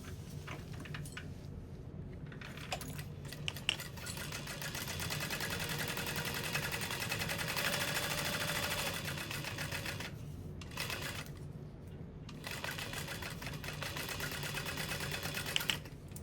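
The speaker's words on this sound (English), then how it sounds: "We're top stitching through the lining." A sewing machine topstitches through a handbag lining, running in a steady, even mechanical chatter for most of the stretch with a few brief pauses and faint tapping.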